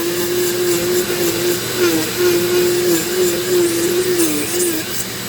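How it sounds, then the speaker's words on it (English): A Dremel rotary tool carving a fairy castle gives a steady, loud motor whine close by, its pitch dipping slightly as the bit bites into the material, with no voices. "I'm going to get up in there a little bit and whittle away a little bit with the Dremel."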